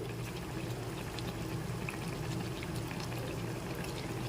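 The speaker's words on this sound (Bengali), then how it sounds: "এখন উল্টো পিঠটাও ভেজে নিচ্ছি এবার একটু এপাশ ওপাশ করে ভালো করে ভেজে নিতে হবে" Mango malpua batter balls sizzle and bubble steadily in hot oil as they fry, a constant close crackling hiss with no speech.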